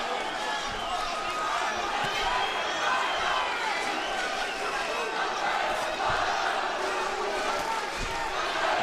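A boxing arena crowd roars and cheers continuously between rounds, a dense, sustained wall of noise with scattered shouts and occasional thuds, fairly loud throughout.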